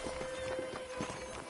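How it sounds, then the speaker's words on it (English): A horse gallops in the video game Red Dead Redemption, its hooves making a quiet, rapid rhythmic thudding over steady background game noise. "let's see if you can still ride a horse"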